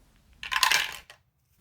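Dice tumbling and clattering on a hard surface in one burst of rattling lasting about half a second, followed by a brief final tick, close and fairly loud with no talk.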